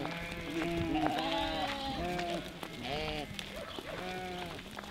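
Goats bleating on a goat farm, several overlapping calls in quick succession, close and loud, with a person's voice calling among them.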